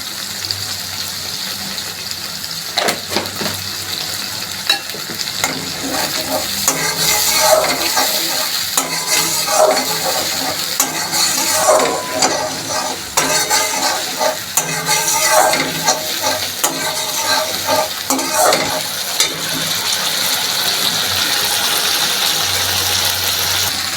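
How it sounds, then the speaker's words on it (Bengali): Spice masala with Kashmiri chili powder fries in a pan for an aair fish dum while it is stirred. A loud, continuous sizzle carries scraping and stirring bursts that rise and fall over about 24 seconds, with no voices. "দেখো মশলাটা কষানো হয়ে গেছে"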